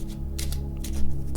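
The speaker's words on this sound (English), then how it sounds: "We shuffle the deck of cards and place it within reach." A deck of playing cards being shuffled at a tabletop game, several quick riffling bursts of papery flutter, close and fairly soft, with no talk.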